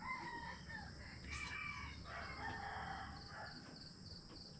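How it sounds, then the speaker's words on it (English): A rooster crows at a distance over a busy outdoor background in Chiang Khong, Thailand, its call rising briefly above ambient noise, with other fowl clucking faintly. "Apart from the rooster that's going spastic over there."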